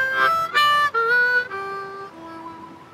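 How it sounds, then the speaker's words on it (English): Slow blues riff on a C harmonica, played solo and close: a few sustained, bending reedy notes in short phrases, each gliding down to a long held tone as the phrase trails off. "I'm playing on a C harmonica here"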